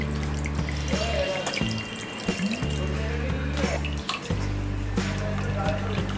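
Cold water pours from a tap over cooked Maggi noodles in a strainer, splashing and gurgling close by, with brief breaks in the flow and a low hum underneath.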